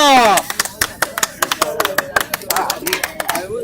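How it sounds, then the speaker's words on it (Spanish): Crowd clapping for a competitor at a freestyle rap battle in Florencio Varela, sharp rhythmic claps in quick succession with a voice shouting over the start. "8 aplausos para Kuro"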